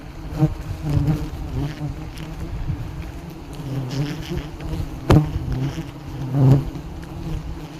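Wild forest bees swarm around a nest during a honey harvest, a loud, dense, continuous buzzing close by that swells and fades with a few louder passes.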